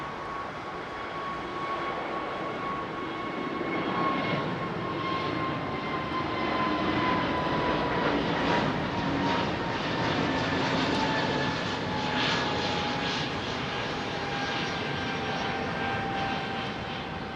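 An Airbus A321 jet at Heathrow gives a loud, steady engine roar throughout, with whining tones slowly sliding lower as it passes, and no voices.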